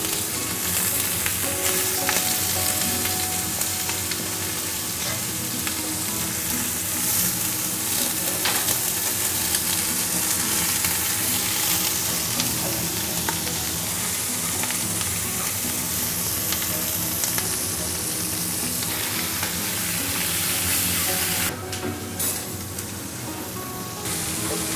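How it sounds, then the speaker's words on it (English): Marinated short rib browns in a hot pan, a loud, dense, continuous sizzle and crackle of frying meat that runs unbroken before easing slightly near the end. "we need to brown off all the meat in the pan"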